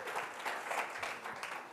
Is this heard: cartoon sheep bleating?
no